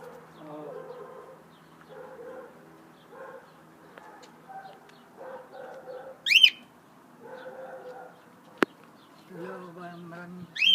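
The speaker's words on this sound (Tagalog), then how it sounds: "Ito ang alaga kong ibon." A pet bird in a home garden gives repeated soft cooing calls in short phrases, close and moderately quiet, joined by a couple of brief sharper chirps and a click.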